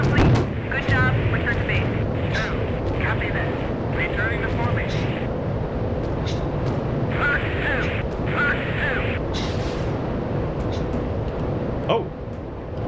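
Anti-aircraft gunfire and rocket launches in the combat flight game Strike Fighters 2 form loud, continuous rumbling bursts and repeated crackling shots over a steady jet-engine drone, with some speech mixed in.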